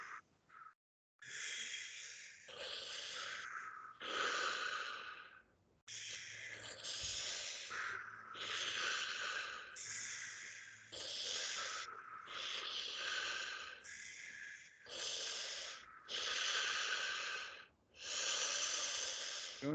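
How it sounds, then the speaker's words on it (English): A group breathes together in a steady rhythm of loud, forceful inhales and exhales, close and continuous through a guided breathing exercise with only brief pauses. "Start breathing at my rhythm."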